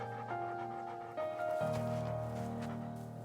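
A dog pants rhythmically close by, quick breaths repeating over a low, steady engine hum.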